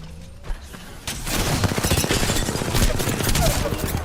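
Rapid gunfire bursts from Apex Legends, dense and continuous after a brief pause, with mechanical reload clicks mixed into the barrage, loud and close.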